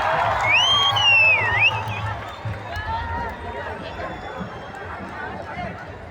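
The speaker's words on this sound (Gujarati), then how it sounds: "અરે નાના બાળક માટે તાળીઓ ને સીટીઓ થઈ જાય" At a Dahi Handi event, a crowd cheers, claps and whistles for a small child, with loud shrill whistles and excited voices. The crowd noise is strongest at first and then settles into general chatter.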